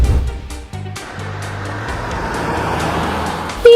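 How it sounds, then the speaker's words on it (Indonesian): A car speeds past on a road near a river, a steady rushing engine and road roar that swells and holds across the whole moment, fairly loud and close, with no voices. "mobil tadi mau kemana? Kenapa ngebut banget?"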